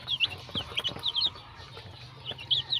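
Chicks peep in high, rapid bursts mixed with soft clucking while pecking at rice, close by, with short chirping clusters separated by brief pauses.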